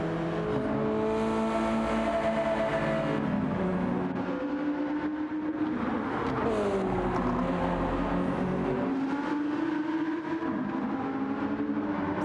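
A race car engine held at steady high revs while drifting through corners at Road Atlanta in a racing game. The pitch rises and falls as the car slides, with no pauses in the sound.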